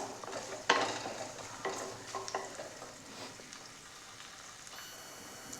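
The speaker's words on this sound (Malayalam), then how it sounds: "അപ്പോൾ നമ്മൾക്ക് ഈ ചെറിയ ഉള്ളി നന്നായി ഒന്ന് റോസ്റ്റ് ചെയ്തെടുക്കാം." Small shallots roasting in a pan for an anchovy roast, soft steady sizzle with a sharp utensil clank and a few stirring scrapes, close but fairly quiet.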